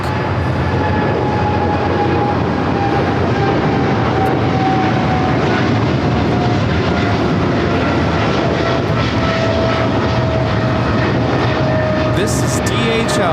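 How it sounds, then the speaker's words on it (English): DHL Boeing 777 freighter run by Polar Air Cargo taking off from Los Angeles International Airport for Cincinnati, a loud sustained jet roar with a slowly falling engine whine, close and dominant from start to finish. "This is DHL, operated by Polar Air Cargo 992, taking off to Cincinnati on the 777 freighter"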